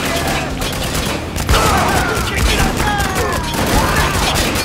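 Sustained gunfire and bursts from a military shooter, Spec Ops, rattle continuously with loud shots and explosions over a busy combat din, and voices call out faintly beneath.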